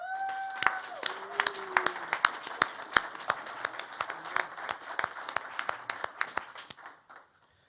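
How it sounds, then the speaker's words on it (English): Applause in a room for entrepreneurs at a Motor City Match awards presentation: sharp, distinct claps in a steady rhythm, a few hands near and clear rather than a dense crowd, with a voice briefly heard at the start before the clapping fades out. "I'd just like everyone in the room at this point to give these entrepreneurs a huge round of applause."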